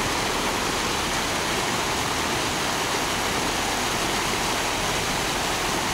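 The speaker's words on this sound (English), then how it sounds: "So this river obviously comes from up in the mountains there" A cold mountain river flowing through Bansko, Bulgaria, makes a constant, loud broadband rush of water. The roar is close and unbroken throughout, with no talking over it.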